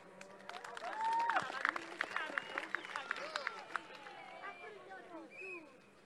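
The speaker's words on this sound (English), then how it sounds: "A big applause." A South African political rally crowd, gathered for an ANC Youth League event, breaks into applause, with dense claps and cheers swelling early then thinning out over several seconds.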